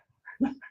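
A small Bichon Frise dog gives one brief whimpering yelp, short and fairly close, with no talk over it.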